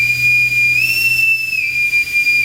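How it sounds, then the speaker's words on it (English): A bosun's pipe, the whistle a ship's bosun uses to signal orders to sailors, blown at a children's concert: one loud, piercing, steady whistle held for about two seconds with a slight pitch rise partway through. "Now this one is called a bosun's pipe."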